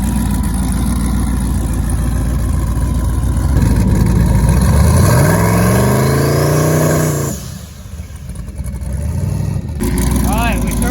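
A drag car engine holds a steady buzzing rev on a two-step launch limiter, loud and close, then the pitch sweeps up hard before cutting off, with voices talking over it.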